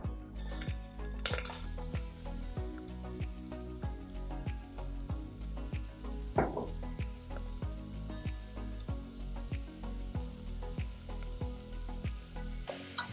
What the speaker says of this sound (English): And saute until the onions become translucent.